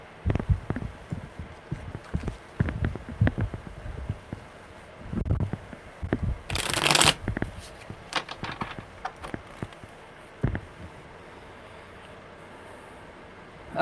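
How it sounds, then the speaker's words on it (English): A deck of tarot cards is shuffled by hand, quiet papery rustles and soft taps leading to one louder riffle burst in the middle, then fading to near silence. "Okay, one more good shuffle."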